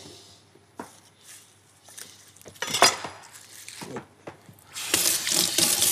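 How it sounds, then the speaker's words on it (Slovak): A knife cuts orange segments from between the membranes and the rest of the orange is squeezed for juice for a fennel and orange salad, giving close, intermittent wet slicing, scraping and squelching sounds with light clinks. "teraz pomedzi týchto šupiek si vykrojíme krásne mesiačiky a zo zvyšku pomaranča vytlačíme šťavu"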